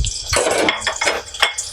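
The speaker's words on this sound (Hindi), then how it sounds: "अब उसमें हम ये प्याज डाल लेंगे अपनी स्पाइसेस में जो कटी हुई है" Chopped onions hit hot oil with whole spices, a close, loud burst of sizzling and crackling with a few clattering pan sounds, fluctuating over a couple of seconds without speech.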